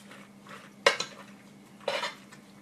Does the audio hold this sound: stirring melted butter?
yes